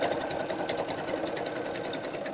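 Sewing machine running steadily through a zigzag stitch on a fabric seam, a continuous close whirring hum with a fast even mechanical pulse and no pauses.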